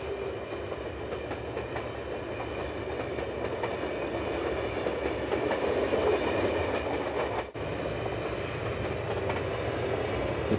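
A narrow gauge steam train of the ET&WNC railroad (Tweetsie) rolls downgrade through a gorge, giving a steady continuous rumble and clatter of wheels and cars that holds throughout.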